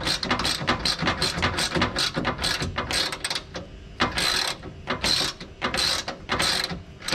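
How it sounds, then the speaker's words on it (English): A ratchet wrench clicks in rapid repeated bursts while loosening the front lower control arm bolts on a 2008 Mitsubishi Lancer (Inspira), close and fairly loud with short pauses between strokes. "You want to loosen all the other bolts as well."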